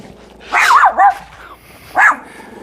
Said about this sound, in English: You have a bark that is far out of proportion to your size, little man.